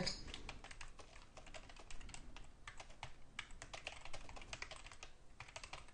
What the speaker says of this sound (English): then I'm going to type in Gabi's comments.